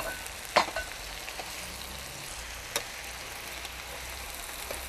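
Spinach frying in a pan for a dry curry with pumpkin, a faint steady sizzle with a couple of sharp clicks of a utensil against the pan, quiet and close with no talk.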